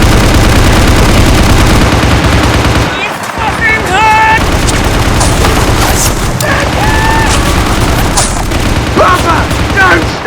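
Dense, continuous gunfire effects in an army men stop-motion battle, with rapid machine-gun bursts, booms and whistling zips layered loudly throughout.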